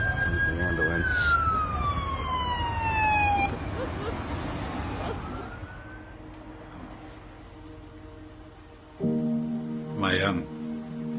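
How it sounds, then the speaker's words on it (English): A loud wailing ambulance siren at an accident scene sweeps down in pitch, fades, and then a second, different siren rises nearby, with traffic rumble throughout. "Here's the ambulance."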